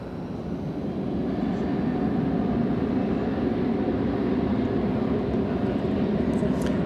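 American Airlines flight 2190 takes off at night at Dallas/Fort Worth International Airport, its jet engines making a loud, steady roar that swells and holds.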